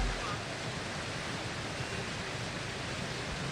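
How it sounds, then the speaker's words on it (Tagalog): Heavy pouring rain in Barangay Darangan makes a dense, steady, loud roar that fills the whole stretch without a break, with no voices heard. "napakalakas ng buhos ng ulan ngayon dito sa Barangay Darangan"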